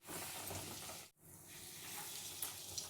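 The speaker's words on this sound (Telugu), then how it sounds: "బ్రెడ్ క్రమ్స్ లో బాగా ముంచుకునేసి ఆయిల్ వేసుకునేయాలి" Steady, crackling sizzle of breadcrumb-coated chicken pockets frying in hot oil, close and continuous, with a brief gap of near silence partway through.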